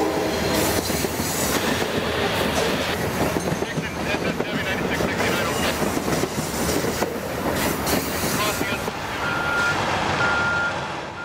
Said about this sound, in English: Capital Corridor train number 535 passes the ballasting operation.